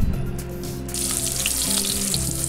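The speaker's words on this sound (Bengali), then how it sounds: "এই তো এখন আমি দিয়ে দিচ্ছি পেঁয়াজ।" Chopped onions dropped into hot oil, a close, steady hiss and crackle of frying that swells after the first second and continues without talk.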